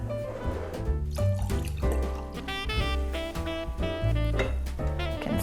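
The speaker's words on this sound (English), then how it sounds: "And then I've got my hot apple cider that I'm pouring over top of it." Hot apple cider poured over tequila, a liquid trickle and glug heard under loud, busy background music that dominates throughout.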